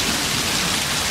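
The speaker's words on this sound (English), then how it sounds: "we've got some pretty serious rain here." Heavy rain pours in Auburn, Georgia, a dense, steady hiss of drops hitting surfaces, loud and unbroken with no voices.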